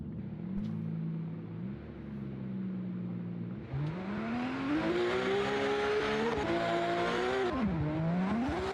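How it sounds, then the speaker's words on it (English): A BMW drift car at a drifting competition roars near and loud, its engine pitch climbing and dipping through gear changes while tire squeal builds to a harsh, sustained hiss as it slides past. "Drifting here, kind of going on the rumble."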